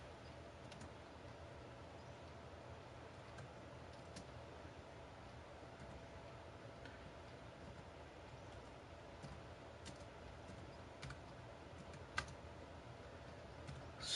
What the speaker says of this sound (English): So I'm just typing it in for Carol here